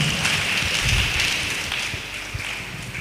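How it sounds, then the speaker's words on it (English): Sustained clapping from a symposium audience, a dense even patter that slowly fades toward the end, with no voices over it. "A round of applause for her one more time."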